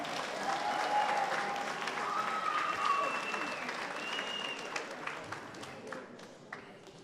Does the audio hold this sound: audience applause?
yes